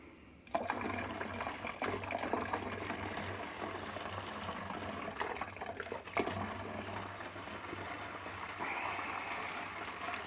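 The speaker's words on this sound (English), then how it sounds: "take the rest of the vinegar and pour it in there" Vinegar for a homemade weed and grass killer is poured into a container in a steady, continuous liquid stream that runs close and fairly loud for about ten seconds, with no talk over it.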